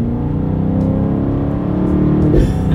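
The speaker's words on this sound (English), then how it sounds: "I can instantly tell the exhaust valves are opened up, so this is going to be a heck of an exhaust clip" A 2024 BMW X7 M60i V8 SUV accelerating hard in sport mode with its exhaust valves open, a loud, steady rising engine and exhaust roar heard from inside the cabin with no talk.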